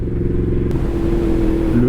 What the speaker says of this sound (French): Le moteur Crossplane c'est vraiment un régal de fou.